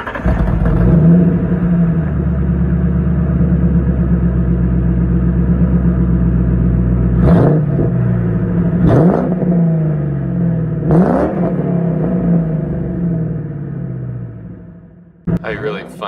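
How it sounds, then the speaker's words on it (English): A car with a newly fitted side-exit exhaust idles with a deep, loud rumble, then gives several sharp revs that climb and fall, with a final burst at the end. "I love when you install exhaust on a car like this."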